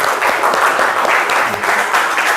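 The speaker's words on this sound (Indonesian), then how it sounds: "Oke, tepuk tangan." A school class claps in unison at the end of a lesson, a dense, close burst of hand claps filling the room steadily throughout with no talking.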